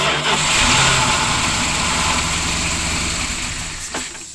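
A Dodge motorhome 360 V8, just fitted with a new timing chain, runs loud and rough up close for several seconds, its roar fading slightly toward the end with no speech.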